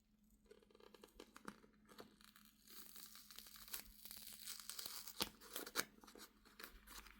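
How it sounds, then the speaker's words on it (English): Crinkly plastic packaging around a skein of bright neon orange yarn is gently unwrapped, with soft crackling and rustling bursts that build up and continue close by, with no talking. "unwrap this gently"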